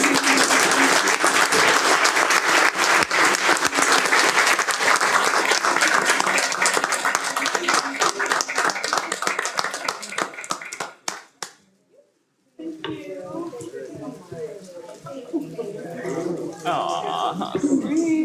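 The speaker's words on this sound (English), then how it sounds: "Let's give them a big round of applause." Audience at a school district board meeting applauds loudly and steadily for about eleven seconds, then the clapping cuts off into a brief silence, followed by quieter room chatter with people talking.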